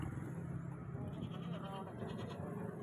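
Goats at a busy livestock market bleating amid a dense crowd murmur, with several overlapping animal calls and people talking throughout.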